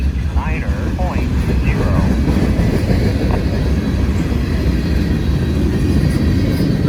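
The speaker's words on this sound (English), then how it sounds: "The front of the train just went past the defect detector. That's what you just heard." A long freight train rumbles past a trackside defect detector at milepost 89.0, a steady heavy roar of wheels and cars close by. Faint voices can be heard in the background.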